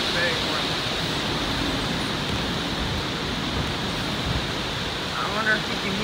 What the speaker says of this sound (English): I wonder if you can hear it roaring on the video.